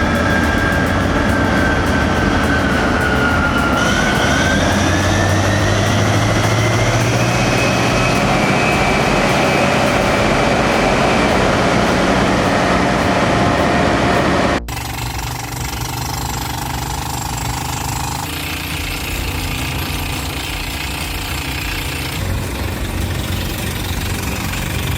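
Heavy mining machine with an 1800-plus horsepower engine running loud and steady, a deep continuous roar with a rising tone early on, then an abrupt shift to a different rumbling engine texture partway through.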